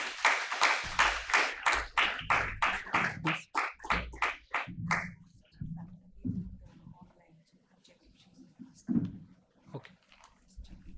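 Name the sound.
audience applause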